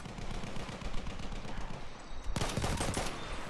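Battlefield 1 gunfire in a Conquest match rattles through a steady background of combat. A sharp, louder volley of close shots breaks out in the final second.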